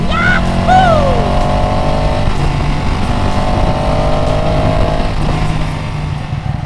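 A Ducati Panigale 899 engine drones steadily while riding, with a loud continuous low roar and whooshing wind, the pitch sliding through gear changes near the start.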